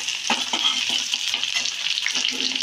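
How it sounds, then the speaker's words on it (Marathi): Chopped onion sizzles and fries in a pan over medium gas heat while being stirred, a close, continuous crackle with rhythmic scraping strokes and no talking. "कांदा सोनेरी रंगावर परतून घ्या।"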